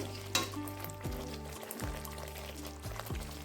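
Spice paste frying in oil for a potato curry (aloo dum) made with new potatoes, a steady sizzle with a few stirring scrapes and clatters, close and moderately loud with no voices.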